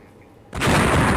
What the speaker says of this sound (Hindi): आप धमाके की आवाज सुन पा रहे हैं